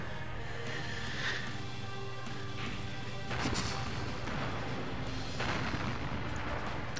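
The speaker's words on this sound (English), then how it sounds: "Oh, and the artillery hits me again." Artillery shell striking a tank in World of Tanks, a heavy crash and rumble against continuous engine noise, with a second impact following a few seconds later.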